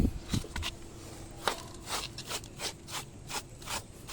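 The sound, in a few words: paintbrush brushing dust off concrete roof deck slab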